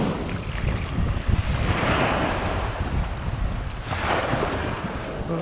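Surf and fresh wind along a calm sea at sunrise, a steady broadband rush with soft swells of breaking water and low wind buffeting on the microphone, continuous and fairly loud, no voices.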